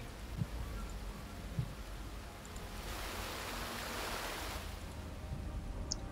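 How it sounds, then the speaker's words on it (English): Steady rushing waterfall ambience in the video game Path of Exile, a constant hiss heard up close, with a few faint clicks over it. "it's the waterfall I'm standing next to"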